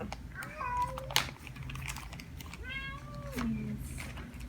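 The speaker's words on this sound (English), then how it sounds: "My kitty cat always gets very vocal when we start doing videos." A pet cat meows several times close by, drawn-out rising and falling cries, amid faint clicks and rustling from fabric dyeing work on a table.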